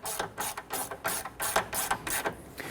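Ratchet snugging bolts on the headlight mounting of a 1992-1996 Toyota Camry: a quick run of rapid clicking pawl strokes in short bursts, close and fairly quiet.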